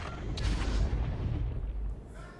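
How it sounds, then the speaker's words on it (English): Gunfire bursts out in a Valorant esports match during a VCT Americas group stage game between NRG and LEV, a dense rumbling volley of shots and booms that runs almost without a break, loud and close. "Silence before gunfire erupts"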